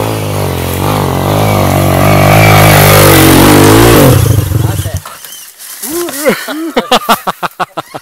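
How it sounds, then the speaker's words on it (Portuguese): A dirt motorcycle revs hard and loud up close while climbing over roots on a trail, then drops into short choppy throttle blips with gaps between them. "Só porque a moto me empinou, subi empinado, hein?"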